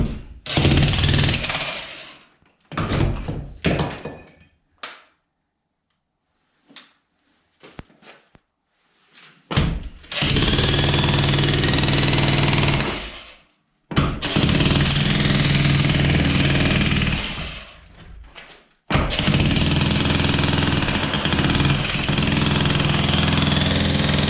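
A jackhammer breaks away a concrete block around a barn door opening, loud and close, running in short bursts at first, then a long sustained pounding run, another after a brief gap, and a final continuous stretch.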